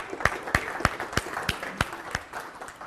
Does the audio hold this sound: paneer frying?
no